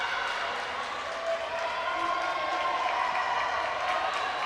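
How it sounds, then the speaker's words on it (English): Spectators at a girls' high school swim meet cheer for adaptive swimmers, with a diffuse, reverberant crowd roar that swells slightly under the echo of an indoor pool. "As soon as their head comes out of the water, now you hear the crowd getting louder and louder."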